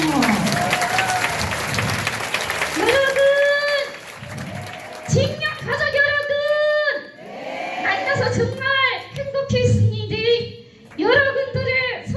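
An audience at a ventriloquism performance for a welfare foundation's anniversary celebration applauds in scattered bursts, the clapping mixed with voices talking and children calling out in a lively hall.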